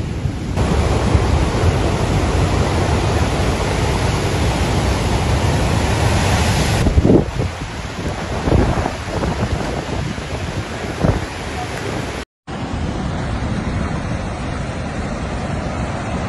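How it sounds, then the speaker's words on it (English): Heavy surf from Hurricane Beryl in Jamaica roars and crashes continuously, waves surging over a road, with gusting wind and a few sharper splashes of water close by. "Waves are already reaching up to the road."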